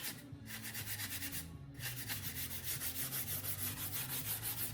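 Fine 4/0 steel wool rubs steadily over a metal-look painted wing finish on a P-51D model, making close, continuous scratchy strokes with an even back-and-forth rhythm and no talking.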